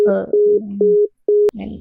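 A phone line tone beeps in repeated steady pulses as a call drops from lost signal, about four short tones with gaps, broken by bits of voice and a sharp click.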